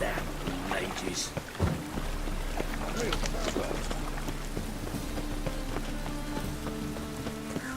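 Steady rain hisses and patters in The Witcher 3 video game, a continuous wash of sound with game music and someone talking over it.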